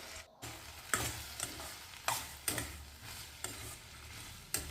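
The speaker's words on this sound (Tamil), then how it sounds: "தக்காளி நல்லா மசிஞ்சு வர வரைக்கும் வதக்கிக்கலாம்" Chopped tomatoes sautéing in a pan for a chutney, with a soft steady sizzle and a spoon scraping and stirring at intervals. No talk.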